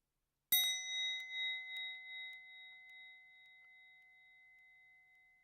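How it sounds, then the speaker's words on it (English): A meditation bell is struck once and rings out clearly, its bright tone wavering and slowly trailing away into near silence. "And as I ring the bell, listening to the sound of the ring all the way from the beginning until it trails off"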